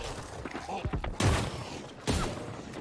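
A shotgun fires in the fantasy MMO New World, two heavy booming blasts about a second apart, loud and close, over a busy background of combat clatter.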